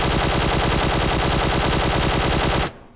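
A QBZ assault rifle fitted with a flash hider fires in PUBG Mobile, one loud, sustained automatic burst of rapid, evenly spaced shots lasting nearly three seconds before it cuts off abruptly into quiet.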